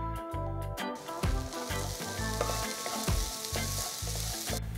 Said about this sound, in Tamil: தட்டின இஞ்சி பூண்டு போடுங்க. ஃப்ரெஷ்ஷாக தட்டி போடுற இஞ்சி பூண்டு அருமையான ஃப்ளேவரும் வாசனையும் கொடுக்கும். ரெண்டு நிமிஷம் வதக்குங்க.